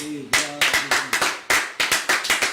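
A church congregation claps in a quick, uneven burst of applause, the sharp hand claps close and loud, with a voice calling out briefly at the start.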